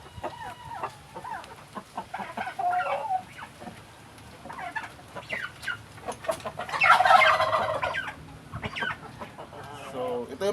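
Turkey hens gobble and cluck nearby in a busy, irregular chatter, with one louder burst of gobbling midway and a voice speaking faintly underneath.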